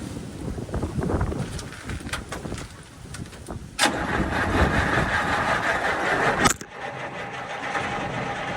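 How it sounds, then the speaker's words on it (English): A truck engine is cranked on a cold start without catching; a few seconds of sustained starter churning sound through heavy wind buffeting on the microphone, then cut off abruptly, with no speech. "See if it'll crank fast enough to suck some of that down."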